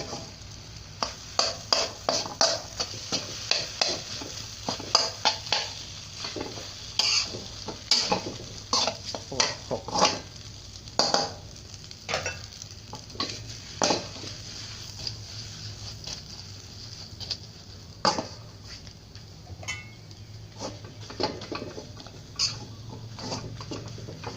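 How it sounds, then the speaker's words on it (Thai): Rice with fermented pork is stir-fried in a pan, giving a steady low sizzle under a dense run of quick spatula scrapes and taps that continues throughout at moderate loudness. "ใส่ข้าวลงไปเสร็จแล้วใช่ไหมครับแล้วก็ผัดคลุกเขาให้เข้ากันเลยครับ"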